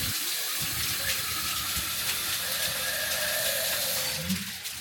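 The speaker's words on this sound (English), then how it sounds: "Let's turn it on, see where the water actually comes from. Oh, it's the waterfall." A waterfall-style tap runs continuously, a steady close rushing and splashing of water that fills the whole clip with no voices.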